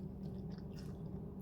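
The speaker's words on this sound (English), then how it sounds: "There's a crunch on it." Crunchy homemade buffalo chicken wings chewed up close, a soft continuous run of moist crunching and munching, quiet and with no talking.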